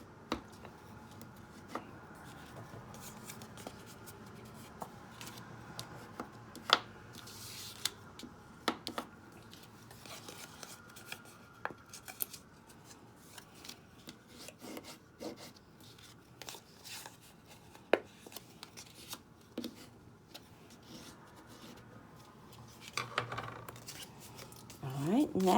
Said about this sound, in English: I'm going to take my bone folder and just go over those score lines really well